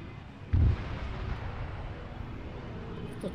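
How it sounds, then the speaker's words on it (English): A drone blows up in a military video game with one low, heavy boom, followed by a steady wash of background game noise. "the drone that just exploded?"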